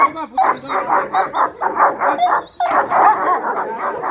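A dog barks repeatedly in a rapid, loud, near burst of yips and barks, pausing briefly before barking again, with people talking around it.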